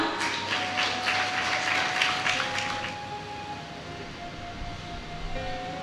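A crowd of youth members at a church gathering claps loudly for about three seconds before the applause fades into a low, steady hum with faint tones.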